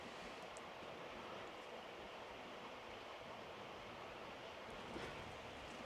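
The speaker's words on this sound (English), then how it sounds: "Listen to the river." A river flows steadily outdoors in rural Wales in autumn, a continuous broadband rush of water that stays even and unbroken throughout with no voices.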